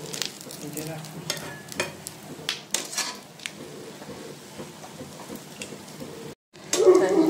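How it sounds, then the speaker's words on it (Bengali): Bombay duck fish frying in a wok of hot oil, a busy sizzle broken by sharp clatters of stirring and utensil knocks, close by, with a brief dropout near the end. "আর কড়াইতে এবার লোটে মাছ ফোড়ন দেবো"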